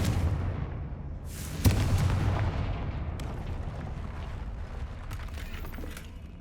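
The Confringo blasting spell goes off in the video game Hogwarts Legacy, a sharp booming blast followed by a rumbling decay and scattered debris crackles, moderately loud against game ambience.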